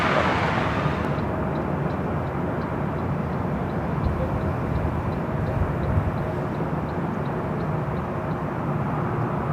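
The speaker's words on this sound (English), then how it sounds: "flight 1059 coming from Oakland, California in a 737-700 wearing the Arizona 1 livery" A Boeing 737-700 airliner in Arizona One livery roars at Los Angeles International Airport, a loud, steady broadband jet rumble that holds throughout with no voices.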